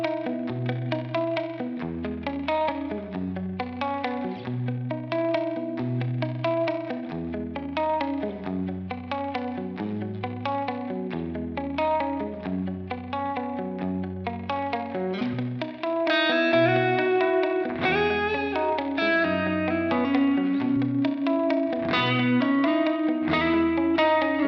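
Clean Stratocaster electric guitar on the middle pickup playing a chord progression with bass notes and arpeggios, lightly effected with chorus and distortion, growing brighter and louder toward the end.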